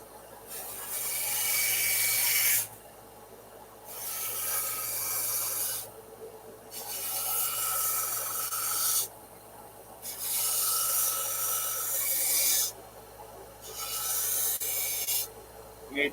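Sandpaper rubbing back and forth over a brass-fitted wooden knife handle being shaped, in long raspy strokes of about two seconds each, separated by short pauses, close and fairly loud with no talking.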